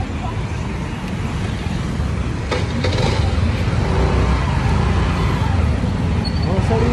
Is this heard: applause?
no